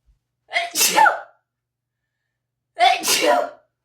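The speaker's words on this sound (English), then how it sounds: "I have to sneeze" Two loud, close sneezes about two seconds apart, each a sharp burst with silence between.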